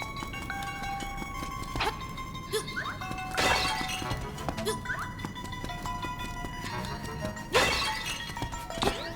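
Clay pot smashing in The Legend of Zelda: Link's Awakening on Switch, a few sharp shattering crashes spread across the span over a steady bed of game music and ambience.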